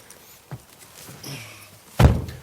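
Front door of a 2019 Mercedes V-Class van pulled open, then slammed with a loud, vibrating thunk after a soft click and brief rattle.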